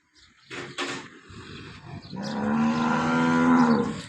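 Cows lowing on a farm: a couple of short, brief calls followed by one long, loud, drawn-out moo, close to the listener with no talking.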